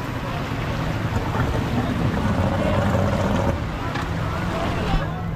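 Speedboat running across the sea toward a coral island, a loud steady engine drone mixed with rushing water, spray and heavy wind buffeting, with a voice talking over it.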